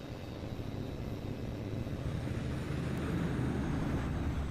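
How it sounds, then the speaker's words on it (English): A patrolling plane's aircraft engine drones in the flight game H.A.W.X 2, a steady low roar that holds at an even, fairly quiet level and swells slightly toward the end. "There's an A.W.X plane flying a basic patrol circuit in the training area."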